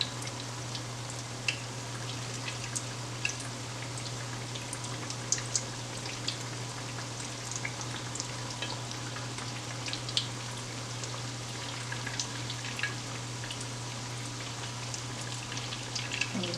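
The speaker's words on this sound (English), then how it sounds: "we're going to let it fry for about 3 minutes on one side and flip it" Akara fritters made from cod and green plantain fry in hot oil with an even, low sizzle dotted by scattered pops and crackles that continue steadily without talk.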